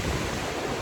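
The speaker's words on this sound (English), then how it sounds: "you can see the waves." Ocean waves wash steadily against a slimy rocky shore near a waterfall, a dense continuous roar with heavy wind buffeting the microphone.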